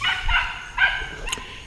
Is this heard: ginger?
no